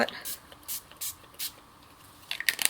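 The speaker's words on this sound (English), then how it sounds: "I may just go ahead and spray that on there." Four short hissing spray bursts of ink from a spray bottle onto a gel press plate, evenly spaced and close, followed by a few small clicks.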